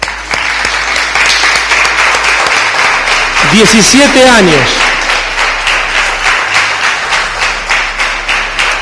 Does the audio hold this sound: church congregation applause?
yes